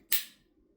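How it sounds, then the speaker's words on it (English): An MKM Hero lockback folding knife snaps its lock into place with one sharp, close click that rings briefly and then fades into quiet. "one of the most satisfying sounds in the knife world is the lockback on the MKM Hero."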